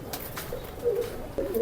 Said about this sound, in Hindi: अभी फ़िलहाल ये इन्होंने एक कबूतर रखे हुए हैं यहाँ पे